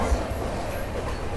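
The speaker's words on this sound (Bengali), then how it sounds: "আমাদের ট্রেন এখন দমদম ক্রস করে ডানকুনি লাইন উঠে পড়েছে" Duronto Express 22201 (Sealdah to Puri) rolling on the rails near Dakshineswar, a steady low rumble of wheels and carriage with faint rhythmic clatter, heard from inside the train.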